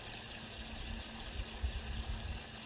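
Water pumped from a freshly dug well pours out in a steady, close rushing splash with a faint hum underneath, constant throughout with slight surges partway through.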